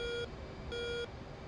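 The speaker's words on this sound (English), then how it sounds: "Beep, beep. I don't know what all those beeps are." Radar warning beeps from a cockpit in the DCS flight simulator game, two steady electronic tones about half a second apart, each holding for a moment, clear but moderately quiet over a faint background hum.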